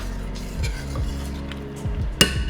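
Eggplant tomato sauce with smoked bacon stirred in a pan at a simmer, a spoon scraping and clinking against the pan under a faint sizzle, ending in one sharp clink.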